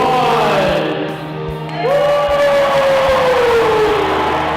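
A high school student body at a banner ceremony cheers and whoops as a loud crowd roar, dipping briefly before swelling again with sustained shouting and a rising whoop.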